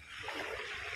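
Sea water at Malbago white sand beach washes steadily for a brief moment, a close, continuous soft rush of surf with no voices.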